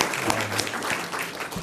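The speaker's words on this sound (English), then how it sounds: "Let us give another round of applause to Professor." Lecture audience at the Chinese University of Hong Kong applauding a professor: dense, steady clapping from a full room that holds even throughout, without voices over it.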